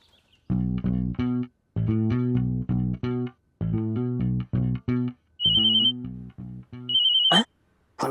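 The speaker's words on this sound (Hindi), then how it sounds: "फोन आ गया।" A phone ringtone plays a bright, repeating electronic melody in short bursts with brief gaps, loud and close, during a Hindi comedy scene.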